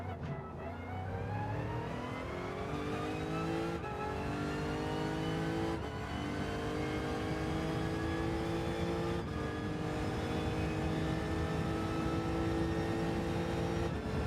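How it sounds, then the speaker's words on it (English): A Lexus Gr.2 race car engine in Gran Turismo 7 howls steadily at high revs around Monza, its pitch climbing and dropping through several gear changes, loud and continuous with no talking. "Just enjoying this Lexus around Monza, if I'm honest. Great car, great sound"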